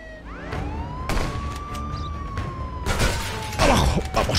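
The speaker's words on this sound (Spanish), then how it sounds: "He puesto la sirena, sepa que ya los he visto." A loud video game police car siren wails with a rising and falling tone, joined by sharp bangs and clattering impacts.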